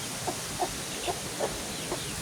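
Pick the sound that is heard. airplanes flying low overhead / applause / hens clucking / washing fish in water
hens clucking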